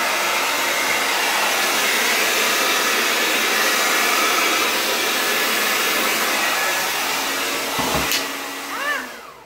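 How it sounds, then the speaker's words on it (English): A hairdryer pushing wet paint across an MDF circle blows steadily with a loud, constant whoosh, then cuts off near the end, leaving a few faint clicks and a brief whine. "I may actually use the hairdryer to just move this down."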